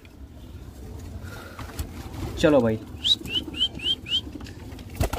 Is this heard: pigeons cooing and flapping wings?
yes